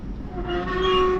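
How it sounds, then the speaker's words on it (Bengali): A commuter train running between Dhaka and Joydebpur rumbles close and loud, with a sustained horn tone rising over the rolling noise toward the end. "ঢাকা টু জয়দেবপুর যায় ট্রেনটা।"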